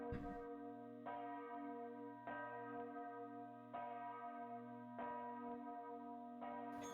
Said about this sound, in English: You've never heard the church bells to ring at nighttime.